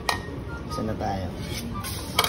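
Sautéed golden-brown onions for Batchoy Tagalog are stirred in a pan with a utensil, giving close scraping and clinking of metal against the pan, steady with a couple of sharper knocks, and a voice talks over it.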